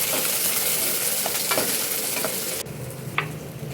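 Chopped shallots stir-fry in a pan until golden brown for a spicy dried-fish curry, a dense close sizzle with light spatula scrapes that drops suddenly quieter partway through.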